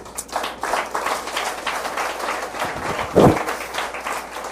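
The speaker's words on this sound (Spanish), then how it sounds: "dio un aplauso al Señor" Church congregation applauding during a Spanish-language sermon, a steady wash of many hands clapping at moderate volume, with a brief louder burst of sound near the end.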